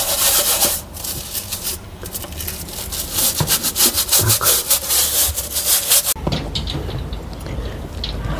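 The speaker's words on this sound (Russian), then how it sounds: "видите, как хорошо мыть вот этой щеточкой" A small brush scrubs something clean with repeated rubbing strokes, loud and close. The rasping is brisk and uneven, then eases into a softer, hissing texture near the end. No one speaks.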